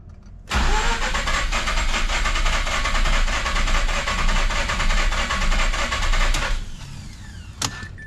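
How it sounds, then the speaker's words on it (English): A Mazda RX-8 with a 13B rotary engine cranks steadily for about six seconds with a loud, even starter whir but never fires, then stops abruptly, followed by a faint click. "we'll make sure it doesn't miraculously hot start"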